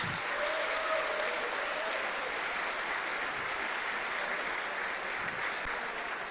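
Sustained audience applause at the Formula SAE EV 2025 awards ceremony, a dense, steady wash of many hands clapping that holds evenly throughout, with faint voices mixed underneath.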